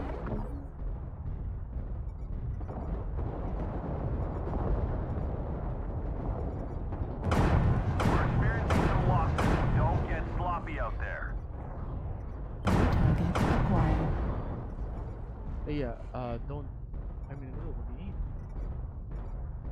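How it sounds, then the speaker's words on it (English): Artillery strike explosions in a video game: two clusters of heavy booming impacts land midway over a continuous low battle rumble, with voices talking throughout. "Artillery strike activated."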